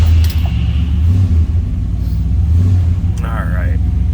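A 1963 Ford Galaxie 500 two-door hardtop idles with a steady, deep low rumble close by, a brief higher whine or squeal cutting in near the end.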